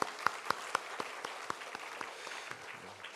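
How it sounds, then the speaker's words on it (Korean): Congregation clapping in a church for a newly married bride, a rhythmic run of sharp, evenly spaced claps that gradually soften and fade. "한번 자리에서 일어나면 우리 박수로 행복한 가정 되라고 축복하겠습니다"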